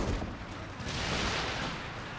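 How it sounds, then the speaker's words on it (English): A 28 cm rocket barrage in Company of Heroes 2 rumbles as a dense wash of distant explosions and rushing noise, steady and moderately loud throughout, with no voices. "Oh, we got the rocket barrage, 28 centimeter rocket barrage."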